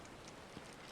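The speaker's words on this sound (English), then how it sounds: "Well, it's actually raining." Faint, steady rain in Final Fantasy VII Rebirth patters softly in a continuous hiss, quiet and even throughout.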